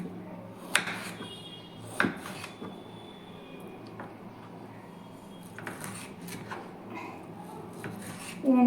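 Knife sharply tapping through tomatoes being cut into medium pieces on a board, a few scattered distinct knocks over soft scraping and rustling, with quiet room noise.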